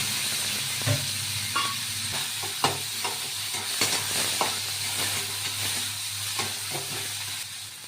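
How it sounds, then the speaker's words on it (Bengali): Two small chopped onions sizzling in hot oil in a pan alongside fried dried chillies, a steady close hiss broken by clinks and scrapes of stirring, with no voices. "এর মধ্যে দিয়ে দেবো পেঁয়াজ কুচি, ছোটো দুটো পেঁয়াজ দিয়েছি"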